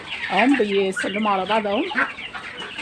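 Domestic chickens clucking close by in a backyard poultry pen kept with ducks, a run of loud, rhythmic warbling clucks with a person talking briefly in the background.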